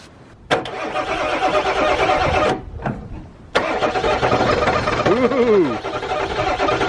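A 1997 Ford diesel truck cranks and fires on starting fluid, its starter grinding before the engine catches and runs roughly with a loud, uneven clatter, briefly dropping out and restarting, a voice audible in the background.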